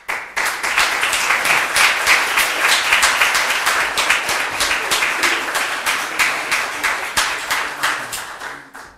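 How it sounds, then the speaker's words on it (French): A book launch audience breaks into steady, dense applause for about nine seconds, many hands clapping together close by before it thins and fades at the end. "on les remercie, on les applaudit"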